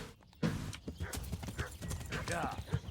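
Horse galloping in the video game Kingdom Come: Deliverance, rapid rhythmic hoofbeats with a brief whinny, heard up close under someone talking.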